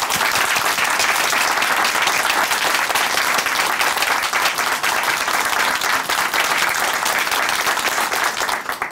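Audience applause fills a studio at a Korean Christian testimony TV program, a dense, steady clapping from a crowd that holds loud and unbroken for about nine seconds before easing slightly at the end.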